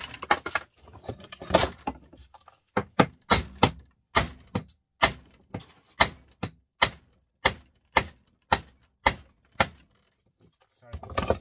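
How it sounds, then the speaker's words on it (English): Sharp, loud metallic hammer blows striking an old TV circuit board, about a dozen evenly spaced hits in a steady rhythm, close up, with brief talk at the start. "This here, I'll hit you with a hammer"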